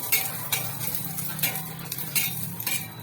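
Garlic dry-roasted and stirred in a pan until lightly browned, for a special chicken masala: spoon scrapes and clinks against the pan recur every second or so over a low steady background, close and fairly loud, with no talking.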